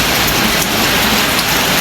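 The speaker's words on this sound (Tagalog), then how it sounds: "Ito, umulan pa lang." Heavy rain pours down steadily outdoors, a dense, loud, continuous wash of drops with no voices over it.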